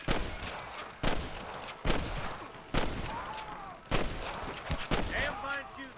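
Gunshots in a shootout on a bridge in Red Dead Redemption, loud cracks spaced roughly a second apart with echoing tails, mixed with fainter shots and background game sounds.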